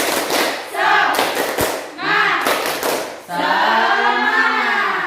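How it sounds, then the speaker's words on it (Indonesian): A classroom of pupils doing a rhythmic spirit clap, sharp group claps in quick patterned bursts mixed with loud chanting voices, close and energetic. "Tepuk semangat."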